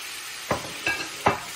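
Red onion and other ingredients are sautéed in a pan for pancit bihon, giving a low background sizzle. Three distinct scraping stirs come at roughly even intervals, close and unaccompanied by speech.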